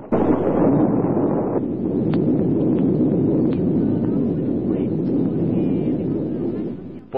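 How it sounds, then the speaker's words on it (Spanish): A radio-drama explosion effect roars as a loud, sustained rumbling blast that holds steady for several seconds, with faint crackles scattered on top. "dentro de unos minutitos, que habrá una explosión"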